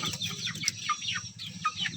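Free-range village chicks cluck and chirp in short, repeated calls from nearby, with a steady low rumble of background noise underneath.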